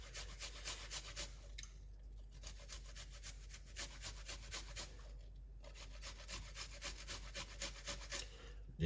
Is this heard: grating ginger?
yes